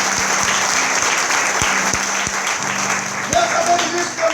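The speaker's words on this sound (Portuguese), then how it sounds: "Aplauda o nome de Jesus." Congregation applause during a church worship service, a steady wash of clapping that holds throughout with a few sharper claps standing out, fairly loud, with a sustained tone underneath.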